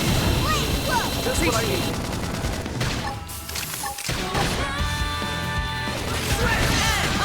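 Gunfire in the Xenoblade Chronicles X video game, bursts of rapid shots and impacts mixed with battle effects and music, while a character's voice speaks over the action.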